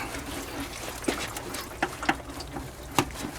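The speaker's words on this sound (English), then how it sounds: "Oh, I'm losing fluid." Coolant trickles and drips from a loosened radiator hose on a Jeep Wrangler during a thermostat replacement, with several sharp splashes in an uneven rhythm, close to the microphone.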